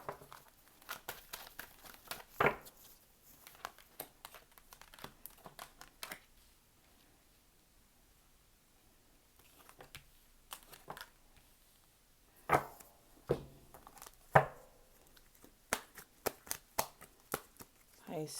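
Tarot cards being shuffled in bursts of crisp riffling and tapping, with quiet pauses between and brief speech mixed in.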